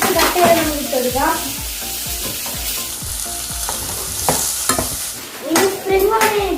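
Two chillies slit down the middle hit a pan for a Kerala-style dragon prawn dish and fry with a steady sizzle, broken by repeated clanks and scrapes of a spoon stirring against the metal.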